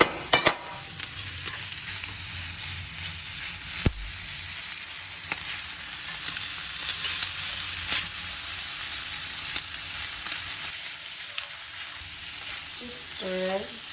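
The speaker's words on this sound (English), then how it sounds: "Here is our pork belly, the star of the show. Let's render all that fat." Pork belly sizzles over medium heat as its fat renders in a pan, a continuous crackling hiss with scattered pops and a few utensil knocks, close and moderately loud.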